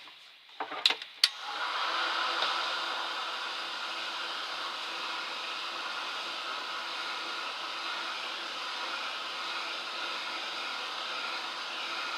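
A dryer blowing steady, loud airflow to dry ink on paper, starting after a couple of sharp clicks and running as a continuous whooshing hum to the end.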